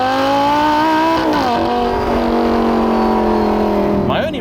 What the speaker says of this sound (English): all of that glorious V10 Symphony